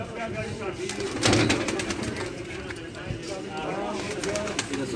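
Competition flying pigeons back from their flight coo in low, rolling murmurs while people talk nearby, with a brief louder rustle and a faint engine hum behind.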